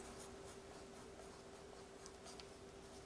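Pen or marker writing on a Ziploc plastic bag, a close, quiet stretch of soft scratchy strokes against a steady background hum.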